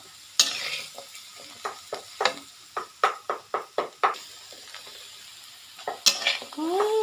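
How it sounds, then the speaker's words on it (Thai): Dry-roasting a Thai larb herb and spice mix in a pan for catfish larb with sour mango, heard as a run of sharp stirring scrapes and rattles with light sizzling, spaced irregularly and close by. "คั่วเครื่องให้สุกก่อนนะครับ"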